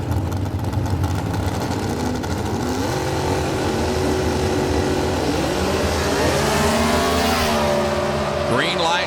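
Drag racing cars launch off the line at a green light start in an NHRA-style event, engines roaring loud and continuous with rising revs, while a commentator talks over the din.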